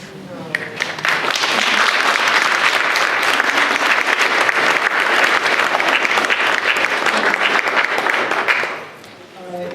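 An audience bursts into sustained, loud applause after a university panel, thick clapping with some crowd noise and faint voices, holding steady for several seconds before tapering off near the end.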